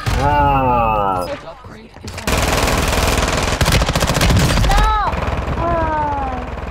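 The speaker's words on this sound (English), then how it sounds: "He's shooting across the roof" Warzone video game gunfire from a rooftop fight: loud, rapid automatic bursts up close, with a short lull in between and excited voices talking over the shots.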